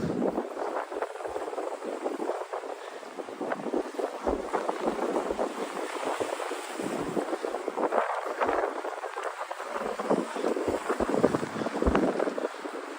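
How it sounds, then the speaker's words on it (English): A westerly crosswind blows along the Brooklyn waterfront on a cold winter day, a constant gusty rush and buffeting with low rumbling bursts throughout and no voices. "I pretty much have a crosswind right now. Basically, almost due west wind here. But it's the wind that makes it tough."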